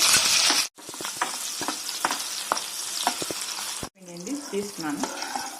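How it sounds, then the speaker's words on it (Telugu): Chopped green chillies fry in hot oil for a home-made dosakaya pachadi, a dense close sizzle with crackling pops and spatters throughout, a short gap, then a voice-like tonal sound over continued frying. "ఆయిల్ కాగిందండి. మిర్చి వేయించుకుందాం."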